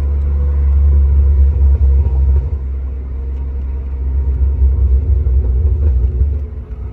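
A BMW E36 M3 convertible moving slowly, its engine giving a deep, steady rumble and low drone that eases slightly midway, then swells again, heard from inside with no talk.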